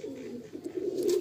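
Close, low cooing from a male white-eyed Malbai pigeon in a loft, a short rolling burst that swells slightly toward the end, with no talking.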